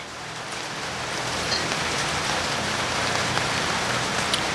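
Rain pours steadily outdoors where adobo is being cooked, a dense, even hiss of drops that swells slightly after the first second and holds strong to the end, with no voices.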